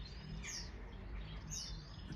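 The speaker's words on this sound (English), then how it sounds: "You can hear all the birds." On a cold, clear sunrise morning in the UK, birds chirp over a steady low outdoor rumble, with two high tweeting phrases rising through the background about a second apart.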